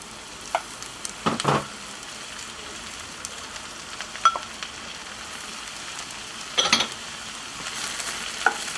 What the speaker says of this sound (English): we're going to fry the red onion and the garlic quickly. We're going to add our mushrooms.